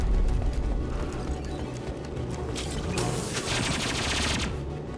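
Rifle fire in the video game Mass Effect 2 comes as a dense, rapid rattle of shots over a loud battle din, with a bright burst of sustained fire in the second half.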